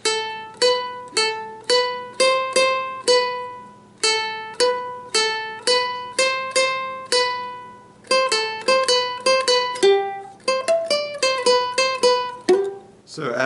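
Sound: ukulele playing a video game theme

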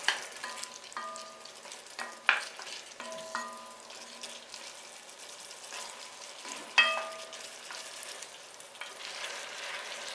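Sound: potatoes and cauliflower sautéing in a pan

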